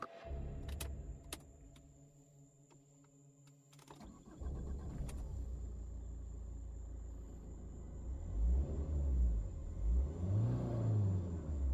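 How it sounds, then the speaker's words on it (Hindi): A car in a forest starts up and reverses, with a brief clicking and rattling first, then a low engine rumble that swells as the vehicle moves, ending in rising, wavering revs, close and fairly loud, with no talking. "मैं गाड़ी बैक करता हूं।"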